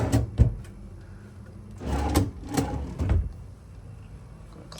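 A hotel room drawer slides and thumps several times nearby, short wooden rumbles opening and closing in irregular bursts with quiet gaps.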